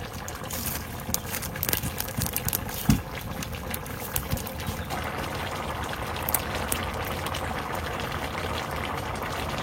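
Curry of ash gourd and crab bubbles in a pot over a wood-fired clay stove, a continuous close burbling and crackle with scattered small pops and one brief knock.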